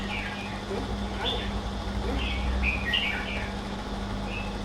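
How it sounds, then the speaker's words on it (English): Small caged birds kept in a home collection chirp in short, high, scattered tweets over a steady low hum and background noise. "Some cute little birds up here."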